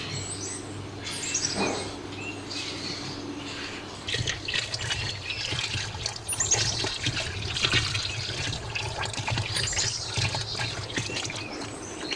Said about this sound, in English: First, fill the washing machine tub with water.